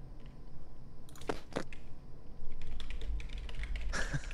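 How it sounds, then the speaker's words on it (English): Keys on a computer keyboard clatter in short irregular bursts of typing as a message is written, close to the microphone over a low background hum, with no talking. "I have to type this to him"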